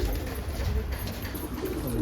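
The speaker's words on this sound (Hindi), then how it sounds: "इसको थोड़ी सी खांसी हो गई इसलिए ऐसा कर रहा है ये, और थोड़ी सांस की बीमारी भी है इसको।" A Kalsira fancy pigeon with a cough and a breathing illness makes soft, low, repeated cooing and throaty sounds close by, with faint background hiss and no talk.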